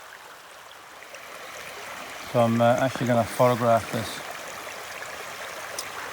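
Flowing stream water in an Acadian forest flood plain, a steady broadband rush running throughout, with someone speaking briefly over it midway.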